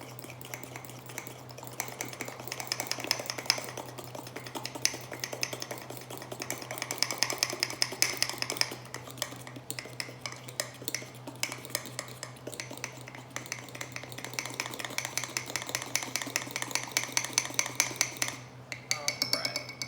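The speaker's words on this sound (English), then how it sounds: "And just mix as best as possible. Make sure to get all of the flour incorporated with those wet ingredients." A utensil stirs mug cake batter of flour, egg and brown sugar in a mug, with quick close scraping and clinking strokes repeating steadily for about twenty seconds over a low hum.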